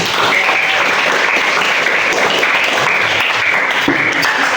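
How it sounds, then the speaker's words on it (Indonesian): Loud, dense applause fills a classroom as students clap together in a steady wash of sound with no talking over it. "Tolong Mbak Ika tepuk tangan dulu untuk semuanya"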